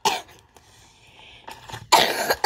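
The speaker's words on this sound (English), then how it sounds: "I was just coughing." Two sharp, loud coughs from a nearby person, one at the start and a harsher burst near the end, separated by a quiet stretch with faint background tones during an Arsenal game session.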